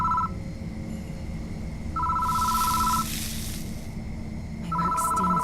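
A phone in the horror video game Death Mark rings in repeated short electronic trills spaced by pauses, with a burst of hissing static between rings over a low steady drone.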